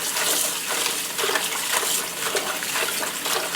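Kale rinsed under running tap water, a steady close rush of flowing water with splashing texture throughout, no talk.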